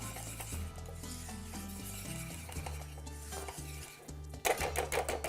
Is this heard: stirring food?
yes